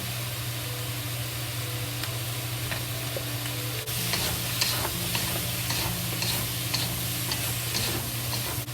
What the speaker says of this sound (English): Then fry it.